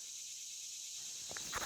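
Loud cicadas droning outdoors, a dense steady high buzz filling the air throughout, with a few brief louder rustles near the end.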